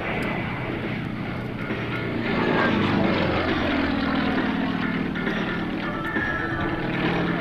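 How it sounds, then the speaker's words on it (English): A Russian-built Sukhoi Su-29 aerobatic propeller plane's engine drones steadily overhead at an airshow, swelling louder as it passes and then holding a rough, sustained roar. "keep your eyes on the man in the Sukhoi Su-29"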